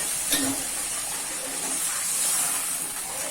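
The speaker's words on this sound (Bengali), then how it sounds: "আমি এখন জল অ্যাড করে দিলাম।" Water poured into a hot pan of fried spices for a prawn and pointed gourd curry makes a sharp splash, then a steady, close hiss of steam that lingers throughout.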